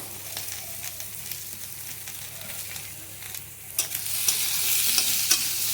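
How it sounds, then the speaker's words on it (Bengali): Eggplant with salt and turmeric sizzles and crackles in a hot pan while it is stirred, with scraping strokes and a hiss that grows louder toward the end; no talking. "নুন আর হলুদটা দিয়ে ভালো করে ভেজে নিয়েছি"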